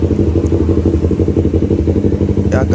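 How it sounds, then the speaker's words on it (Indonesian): A Honda CBR250RR fitted with a custom underbelly exhaust idles close by, a loud, steady, throbbing engine rumble with a faint clatter near the end. "Ya agak berisik ya knalpotnya, karena pakai knalpot underbelly custom ya"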